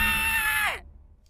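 A character in the video game Tantei Bokumetsu lets out a loud, sustained high scream that bends downward and cuts off abruptly, leaving near silence.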